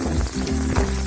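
Green chillies dropped into hot oil with cumin and onion in a pan, giving a brief broadband sizzle over a low steady hum, fairly close, with no talking.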